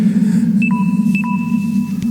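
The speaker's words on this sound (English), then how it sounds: "That was my phone just telling me that my battery's completely zero." A phone's low battery alert sounds inside a Halloween haunted attraction, two short clear electronic tones repeated over a loud steady low hum, with no speech.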